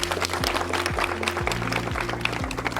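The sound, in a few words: applause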